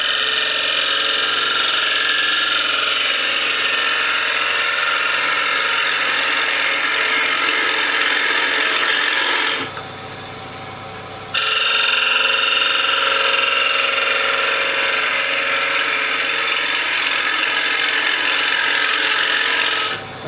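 Woodturning gouge hollowing the inside of a bowl on a lathe, a loud continuous rough scraping and hissing cut over the lathe's hum, briefly easing off midway before resuming at full strength.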